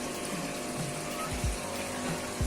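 Water circulates through a home aquarium filter system with a tap for measuring flow, giving a steady close gushing and pumping wash with occasional low bubbling gurgles.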